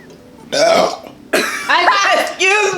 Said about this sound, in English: I can burp without the root beer.